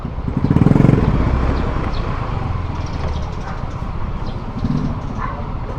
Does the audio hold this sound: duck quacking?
no